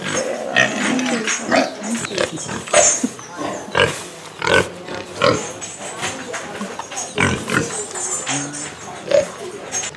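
Pigs grunt and snort in short bursts at close range, mixed with people talking and general farmyard noise.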